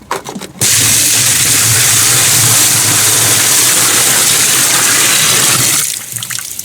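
Rainwater pours in a steady, full rush for several seconds, close by, starting and stopping abruptly.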